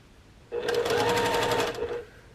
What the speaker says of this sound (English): just finish stitching the right sides together